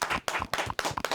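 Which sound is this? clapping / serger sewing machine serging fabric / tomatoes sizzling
clapping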